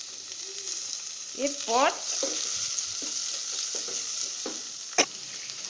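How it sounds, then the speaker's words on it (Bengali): Eggs frying in a spice masala in a pan, a steady close sizzle with a few stirring scrapes and one sharp clink, while a voice speaks briefly. "আচ্ছা এখন এর মধ্যে আমি ডিমগুলো দিয়ে দিলাম"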